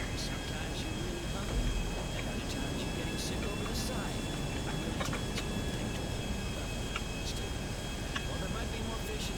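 Propeller airplane flying in the GTA V video game, a steady broadband engine drone running evenly throughout with faint clicks scattered over it.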